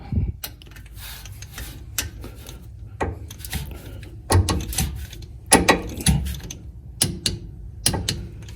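Allen key tightening bolts on a Jeep JK differential cover, a series of sharp metallic clicks and ratcheting clanks in an uneven rhythm, close and fairly loud in a garage.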